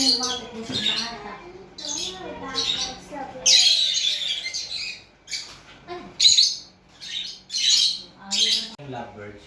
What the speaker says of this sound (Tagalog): Yung lovebirds yung isa.